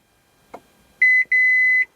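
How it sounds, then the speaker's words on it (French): The dashboard of a Dacia Spring electric car emits two clear electronic beeps, a short tone followed by a longer one, after a faint click, in an otherwise quiet cabin. "à chaque fois que ça interroge, le tableau de bord bip"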